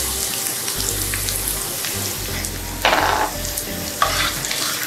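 Chicken and carrots sauté in a pot for Romanian chicken ostropel, with a steady close sizzle and a few louder scraping stirs near the end. No one speaks.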